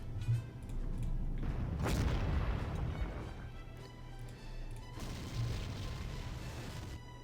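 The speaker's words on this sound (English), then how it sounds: "So that bombing did absolutely nothing, unsurprisingly." Bombing attack in the war strategy game Panzer Corps: rumbling booms and a sharp blast, loud and fairly close, then a lingering low drone, with no speech.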